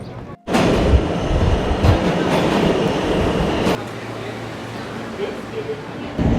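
A New York subway train rides the rails with a loud, steady roar and rumble that drops to a lower, quieter hum partway through, as if slowing or changing track.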